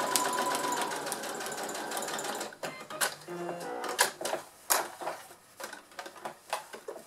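A sewing machine stitches a fabric glasses case. It starts with one continuous whirring run, then breaks into short bursts of fast rattling stitching with brief pauses between them.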